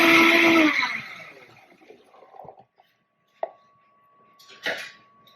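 A short burst of loud blender whirring mixes tahini sauce with garlic and lemon, then winds down into quiet with a few light clinks and taps of utensils.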